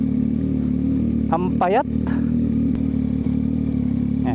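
A Suzuki Hayabusa 1340cc motorcycle engine drones steadily up close on a road, a low continuous hum under a brief spoken remark.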